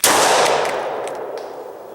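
A pistol obstructed with gum and factory lube fires a single sharp, loud shot close by, followed by a long ringing decay and reverberation.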